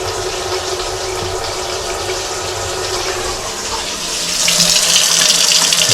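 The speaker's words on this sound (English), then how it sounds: "I like to run the water while I'm snaking" Water from a tap running steadily into a blocked drain during snaking, a close, continuous rush that grows a little louder and brighter toward the end.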